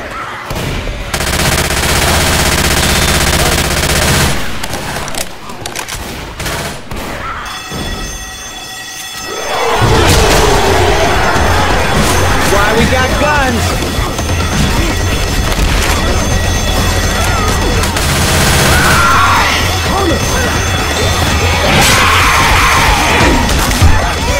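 Gunfire in the zombie shooter Left 4 Dead 2: dense, loud bursts of automatic fire and shots running through most of the stretch, with a brief quieter gap, layered over game noise and chaotic effects.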